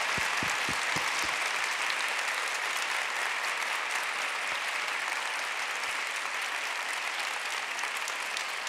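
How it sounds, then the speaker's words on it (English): A crowd applauding steadily throughout a university women's conference, dense sustained clapping at a moderate distance with a few sharper individual claps near the start. "a massive round of applause for Faye."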